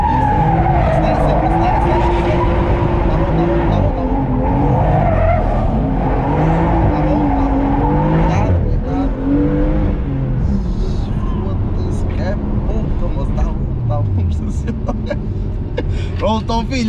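A Stage 1 tuned BMW M2 revs and accelerates hard, its engine roaring loudly and continuously with tyre squeal and skidding while people talk over it throughout.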